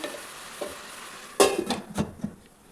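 Ridge gourd pieces are stirred in a frying pan, giving a steady low sizzle with a few louder scraping strokes of the spatula near the middle and end.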